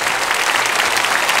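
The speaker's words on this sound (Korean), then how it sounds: "다시 한번 박수로 축하합시다." Brief burst of church congregation applause during a Sunday worship service, dense and steady clapping from a large crowd throughout, fairly loud and close, with no talking.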